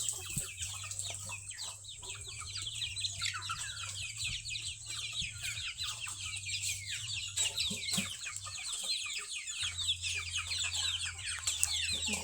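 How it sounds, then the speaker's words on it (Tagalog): A crowd of chicks on a farm keeps up dense, overlapping high peeping and clucking close by, steady throughout over a low constant hum. "Makukulit kong mga sisiw."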